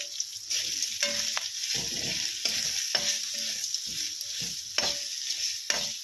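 Sun-dried tomatoes frying in a pan with chilli and turmeric powder give off a steady, close sizzle, broken by regular scraping stir strokes about once a second.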